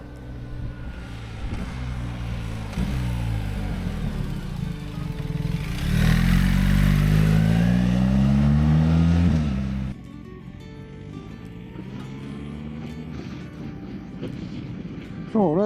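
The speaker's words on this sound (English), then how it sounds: "So ready for some motorway riding now with the big BMW." A 2026 BMW R1300 GS with the automated shift assistant is ridden on the road, its engine note rising and falling through gear changes amid wind rush, then settling to a steadier drone.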